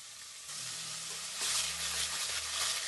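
Green chillies frying in hot oil in a pan, a bright steady sizzle that swells louder halfway through with faint stirring, close and continuous with no talking.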